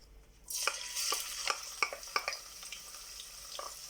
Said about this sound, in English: I'm going to add 1 onion to it.